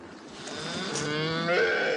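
A dairy cow lets out a single drawn-out moo, loud and close, rising and swelling in tone over about two seconds with no talk over it.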